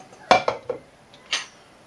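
A medium saucepan is set down in a kitchen, making a sharp metallic clank followed by a couple of lighter rattling knocks and a final clink. No one speaks.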